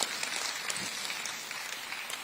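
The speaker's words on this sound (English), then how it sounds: "another round of applause for Mr. President" Audience applause for the President at a Lagos stakeholders' engagement on the Lagos-Calabar coastal highway, a steady mid-level wash of many hands clapping throughout, without clear peaks.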